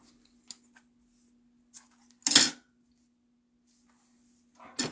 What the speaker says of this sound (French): je vais les couper en 25 cm.